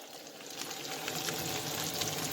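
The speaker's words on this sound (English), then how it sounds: "Cooking salmon, skin side down first, and get a nice sear on that." Skin-on salmon fillet sizzling skin side down in hot oil in a cast iron skillet, a steady, fairly loud broadband frying hiss that swells slightly and holds without a break, with no voices over it.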